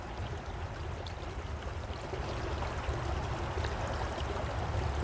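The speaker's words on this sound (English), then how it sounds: "I'm really drawn to the light shining on that water. It looks like diamonds flowing down." Stream water flowing outdoors on a warm spring day, a steady broadband rushing and babbling that stays even throughout, moderately close with no voices.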